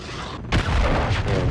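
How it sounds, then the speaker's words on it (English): A cruise missile explodes in a multiplayer video game team deathmatch, a sudden loud boom followed by sustained rumbling blast noise. "Friendly cruise missile approaching target."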